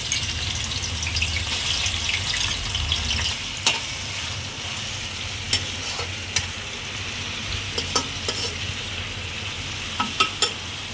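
Shrimp frying in oil in a pan while cooking mixed chowmein, a steady close sizzle with scattered crisp pops and spatters, no voices.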